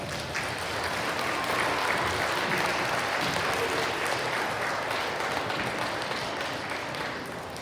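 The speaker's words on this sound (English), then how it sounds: "Give them a round of applause." Sustained, dense applause from a school audience at a first and second grade awards assembly, steady and fairly loud for the whole stretch with no voices breaking through.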